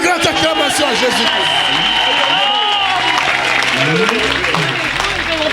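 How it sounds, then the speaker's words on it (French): A church congregation applauds and cheers continuously and loudly, with a voice talking over the dense crowd noise throughout. "Donne une grande acclamation à Jésus."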